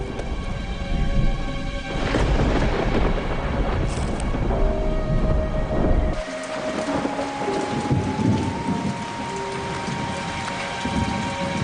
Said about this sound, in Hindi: अरे ये क्या हो रहा है? काली बरसात?